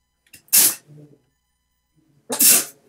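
Two loud, close sneezes about two seconds apart, each a sharp explosive burst, with a soft murmur of movement between them during a gaming session.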